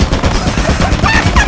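An automated turret on the ship in Lethal Company, a video game, fires a rapid, loud, continuous burst of gunfire close by.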